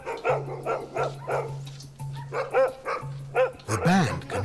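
Dogs behind fences in Campo Grande, Brazil, give a run of sharp barks in quick bursts, fairly close and loud, with a steady low hum running underneath.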